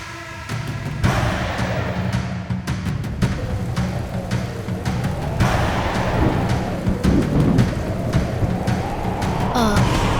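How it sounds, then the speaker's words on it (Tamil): Rain and strong wind lash a tea estate in a dense, continuous roar, with sharp cracks and thumps scattered throughout and a louder gusty surge in the second half, and no talk. "நீங்க இருக்கிற இடத்துல மழை பெஞ்சு காத்து அதிகமா அடிக்குதா?"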